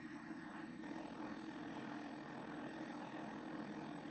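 A laundry machine runs with a steady, loud, broadband roar like a plane taking off, droning continuously and unchanging throughout.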